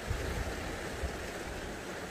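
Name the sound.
ocean waves on the East Sea coast at Naksansa beach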